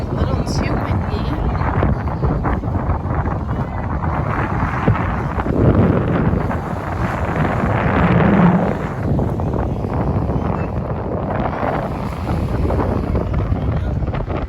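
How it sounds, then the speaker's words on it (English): Strong wind buffets the microphone on a beach boardwalk, a steady loud rumbling roar that continues throughout with gusts swelling midway, and voices are faintly heard beneath it. "It's windy."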